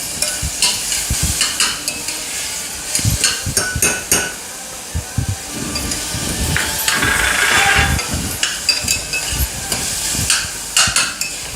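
A paste of ginger, garlic and green chili sautés in a pan. Repeated scraping and stirring strokes come in an uneven rhythm over a continuous close sizzle, with no talking.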